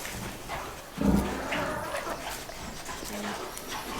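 A dog on a farm with pigs and lambing sheep gives a short whimpering yelp about a second in, then softer snuffling and faint noises against a quiet barn background.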